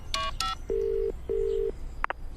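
Telephone keypad tones dialing a call to the police: two short multi-tone beeps, then two longer steady tones, then a short final beep, clear and alone with no talk.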